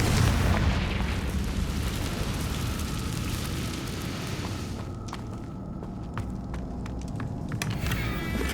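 A Confringo fire spell explodes in Hogwarts Legacy with a loud, rumbling blast that fills the scene and slowly thins out, followed by a few faint crackles and taps.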